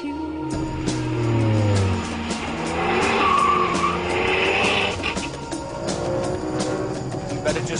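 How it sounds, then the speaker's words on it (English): A Ferrari 599 GTB Fiorano is driven at speed through a long tunnel, its loud engine note echoing as it rises and falls, with tyres squealing and faint talk underneath. "take it to a long tube and drive through it at speed"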